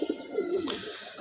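Pigeons, including a male and young birds kept together, coo in a coop with soft rolling calls, close and alone.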